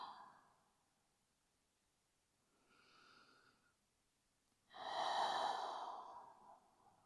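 A slow, deep exhale during aerial yin yoga while resting in a hammock: a soft breath early, a brief quieter breath in the middle, then a long, loud, airy exhale near the end, close and with no talk.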